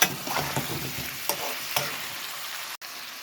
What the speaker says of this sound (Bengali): এটা আমি একটু কষিয়ে নেব।